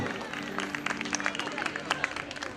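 Audience clapping during a staged religious performance at a Jain Gyan Kalyanak ceremony in Shalimar Enclave, Agra: scattered, uneven claps over a murmuring crowd and a steady held musical drone.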